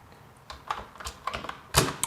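Typing text on a computer keyboard: sparse, irregular key taps, close and fairly soft, with a louder final clack near the end.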